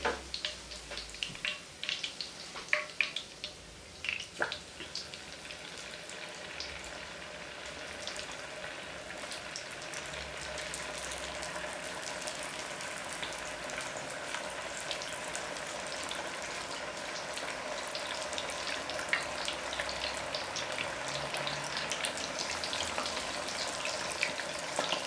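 Shrimp for bang bang shrimp fry in hot oil with a steady, dense crackling sizzle that holds at an even loudness throughout, after a few sharper pops and splatters in the opening seconds.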